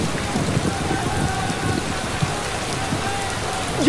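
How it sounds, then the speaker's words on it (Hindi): Steady rain patters on a surface close by, a constant dense hiss with scattered drops, no voices. "बारिश आ गई।"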